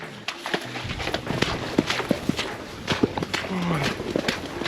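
Horses slog through thick swamp mud on a trek in Mongolia, uneven hoof steps squelching and splashing close by, with a voice speaking over the movement.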